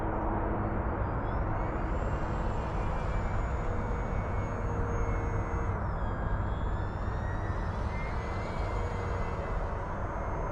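An FMS Cessna 182 1.5 m RC model plane flies overhead, its electric motor whining steadily and shifting pitch as it manoeuvres, loud and continuous with broadband wind noise throughout.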